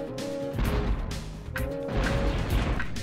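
Repeated cannon blasts in the PlayStation game Spyro: Year of the Dragon, sharp booming hits over looping game music at an uneven rhythm, with no voices.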